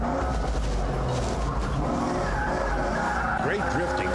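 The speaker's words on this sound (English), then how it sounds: "Costa into the drift portion, begins to drift the truck." A truck drifting on asphalt, tires squealing and skidding over a loud, continuous engine roar, with some voice mixed into the din.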